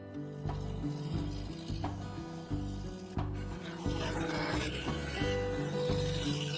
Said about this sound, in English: I switched to the 1/2-inch spindle gouge to refine the transition between the upper and lower cut line